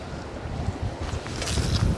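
Strong wind buffeting the microphone while fishing in stormy weather on Poole Harbour, a loud continuous rushing roar with low gusty rumble and no talk.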